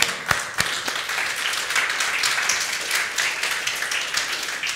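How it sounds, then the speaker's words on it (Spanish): A church congregation applauding during a sermon, a steady dense wash of clapping that starts with a few sharp claps and carries on for several seconds without talk. "Dale un aplauso."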